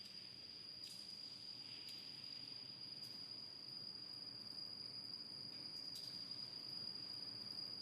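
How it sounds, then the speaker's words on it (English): Crickets chirp steadily in a high, continuous trill, faint and alone, hidden inside the Rio-Antirrio bridge structure, with a few sharper clicks scattered throughout. "there are crickets hiding down here"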